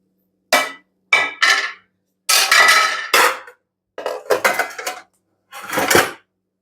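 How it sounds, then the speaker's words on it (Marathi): Kitchen dishes are gathered up for washing, with several loud, close bursts of clanking steel utensils and rattling pots set in short clustered groups separated by silence, and no talking. "इथे सगळी भांडी मी गोळा करून घेत आहे"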